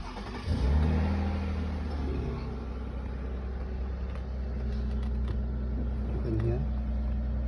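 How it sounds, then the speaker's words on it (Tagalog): A car engine starts after the brake is pressed and settles into a steady idle hum close by, with someone talking over it throughout. "ang mga ganitong sasakyan, kailangan i-press yung brake bago kayo mag-on"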